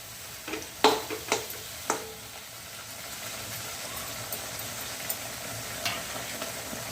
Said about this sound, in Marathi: आता याला तेल सुटेपर्यंत आपण काय करणार आहे छानपैकी तेलातच तळून घेणार आहे